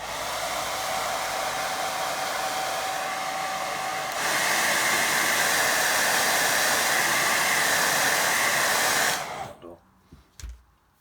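A hair dryer blows steadily on a watercolour bluebell lake painting, a loud continuous whoosh that rises in pitch partway through, then cuts off near the end with a few faint clicks as it is set down.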